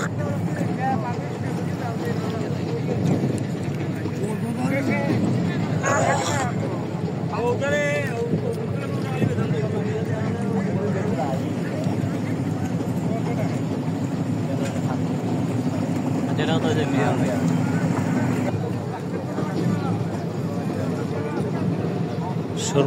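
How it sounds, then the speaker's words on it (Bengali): A small ferry boat crosses the Surma river near the Dowarabazar ferry ghat in Sunamganj. A steady low engine drone and wind noise run throughout, while voices talk over the crossing. "সময় বাঁচানোর জন্য ফেরি নৌকা দিয়ে কিন্তু পারাপার হচ্ছি।"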